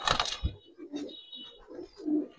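Giribaz pigeon released close by, a burst of wing flapping followed by soft low cooing calls repeating at short intervals, no talking.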